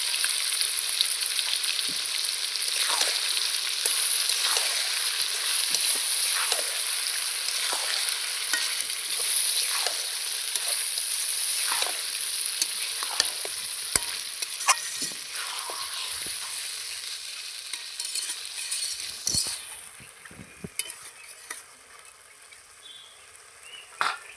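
Ground spice paste frying in a pan for Bengali chicken kosha, a long steady sizzle up close with repeated stirring scrapes and spatula taps, easing somewhat quieter toward the end.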